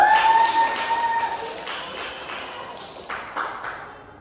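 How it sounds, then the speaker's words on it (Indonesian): Children clap their hands together in a classroom, a scattered burst of claps that is loudest at the start and then thins out. Sparse, uneven claps follow near the end. "Tepuk tangan dulu dong"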